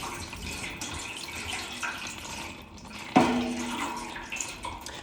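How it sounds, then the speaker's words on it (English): Tap water pours steadily into a dye pan with a continuous splashing rush, close and moderately loud, then a sharper splash lands partway through as the pour carries on. "And I'm going to be adding 4 cups of tap water."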